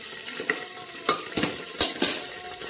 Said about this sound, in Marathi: बघा कुकरमध्ये असा फोडणीला मस्त छान असा कढीपत्ता टाकला.